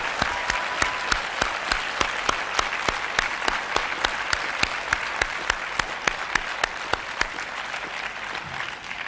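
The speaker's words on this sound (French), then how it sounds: "je vous demande de l'applaudir pour la qualité de son animation" A conference audience applauds its moderator, Stéphane Paoli, in a long, even burst of clapping, with steady rhythmic hand claps close by over a dense crowd wash that carries through to the end.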